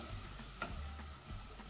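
Onions softening in a pan for an Egyptian broccoli soup, giving a faint, low, continuous sizzle with a couple of soft stirring taps, quiet and brief.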